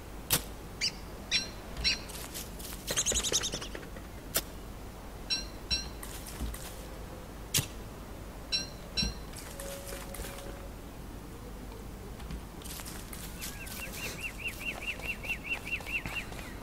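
In the game Don't Starve Together, a caged bird gives short, bright chirps and tweets in scattered bursts, with faint clicks and a brief beeping trill near the end, all quiet against a soft background.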